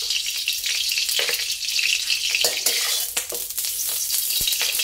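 Garlic fries in pork lard over medium-low heat for stir-fried long beans with minced pork, giving a loud, continuous crackling sizzle with occasional spatula clinks.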